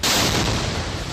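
A loud explosion goes off as a flag pole is set on the ground at the Israel–Palestine border, a sudden broadband blast that stays heavy and sustained for about a second with no voices.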